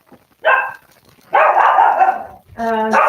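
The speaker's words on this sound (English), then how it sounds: "Those are my dogs." Several dogs bark indoors, close by, with a short yelp followed by two longer, loud bursts of barking and yipping separated by brief pauses.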